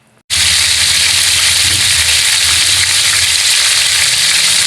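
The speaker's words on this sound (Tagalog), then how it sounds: "naglagay na yung aking wife sa pan ng chicken meat. At nagprito na po siya" Chicken meat frying in a pan with a loud, continuous sizzle and crackle that starts abruptly after a brief quiet moment and holds steady throughout.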